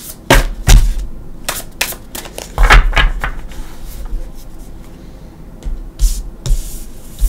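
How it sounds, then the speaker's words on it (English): Tarot card deck being shuffled by hand, close up with sharp riffling bursts and quick card taps in an uneven rhythm, quieter rustling in between. "Now we'll shuffle."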